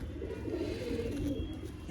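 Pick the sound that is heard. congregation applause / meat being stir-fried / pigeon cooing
pigeon cooing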